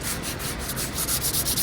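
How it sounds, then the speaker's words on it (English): Quick, even back-and-forth strokes of a hand sanding pad rubbing over the edges of a wooden stool top, close up and continuous, with no voices. "Don't be too proud to hand sand these edges"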